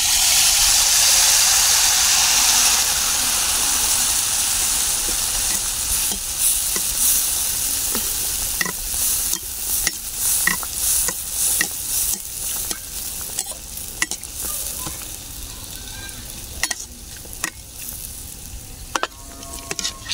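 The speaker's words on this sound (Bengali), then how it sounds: "এই যে তেলে আমি পিঠা দিয়ে দিচ্ছি।" Palm-fruit malpua pitha frying in hot oil, with a loud, steady sizzle that thins over time while sharp spatters and pops crackle through it alone, with no talking.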